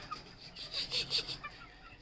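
An Aseel hen in a rooftop cage gives a short run of soft, quick clucks, fairly quiet and close, with a few faint clucks trailing off afterward.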